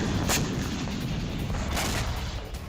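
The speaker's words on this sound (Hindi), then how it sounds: "सादत आबाद इलाके में भारी गोलाबारी हुई है।" Heavy shelling and explosions in Tehran's Saadat Abad district, a continuous rumbling barrage with a couple of sharper blasts standing out, loud and unbroken throughout.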